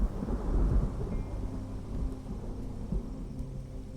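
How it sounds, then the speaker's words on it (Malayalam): Thunder rolls in a low rumble that swells early and then fades, over a steady hiss of falling rain. "നല്ല മഴ വരുന്നുണ്ടല്ലോ"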